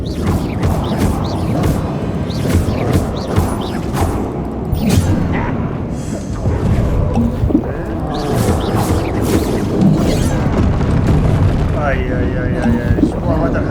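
Confringo fire spell blasting in the Hogwarts Legacy video game, a dense run of booming explosive bursts over a busy combat soundscape, with a voice talking throughout.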